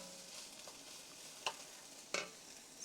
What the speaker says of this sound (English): I've had these sauteing maybe 8 to 10 minutes